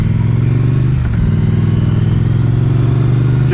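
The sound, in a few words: motorcycle riding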